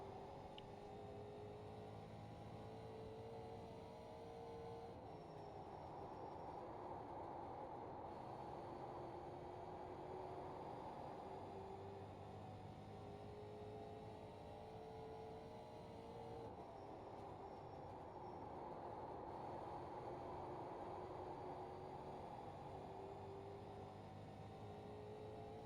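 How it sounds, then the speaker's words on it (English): A rookie street stock car laps USA Speedway in the iRacing simulator, its engine a steady droning roar that rises and falls in pitch through corners and straights over a long continuous stretch, with no voices. "So there it is, a lap around USA in the rookie street stock."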